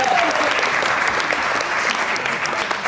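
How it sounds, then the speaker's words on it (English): Steady applause from a crowd at a senior speech, dense clapping that fills the whole stretch at an even level. "we can give him applause. Let's clap."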